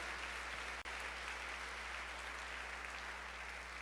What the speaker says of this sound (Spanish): Le puede dar un fuerte aplauso a Dios.